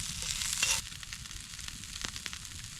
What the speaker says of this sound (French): quand tu fais cuire des oignons